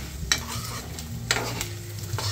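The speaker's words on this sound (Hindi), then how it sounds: "और इसको चलाते रहना कंटिन्यू" A protein ladoo mixture with ghee stirred in a kadhai with the gas turned off, several scraping strokes and sharp knocks of the spoon against the metal over a low background hum, close by.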